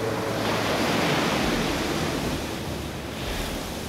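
Ocean waves crash and surge in a loud, continuous wash of surf with a gusty, windy edge and no voices.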